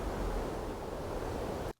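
A wind atmosphere bed rushes as a steady, even, broadband whoosh with no gusts or other sounds, holding constant before cutting off abruptly at the end.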